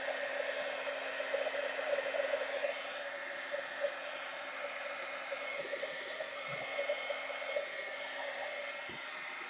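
A hair dryer blows hot air over black paint on a cardboard box, giving a steady, close, continuous whooshing hum with a constant motor whine and slight flutter throughout, with no talking.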